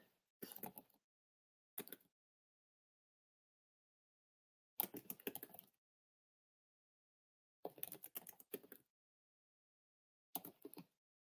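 Bursts of computer keyboard typing, five short clusters of quick keystrokes separated by silence, fairly quiet and close with no talking.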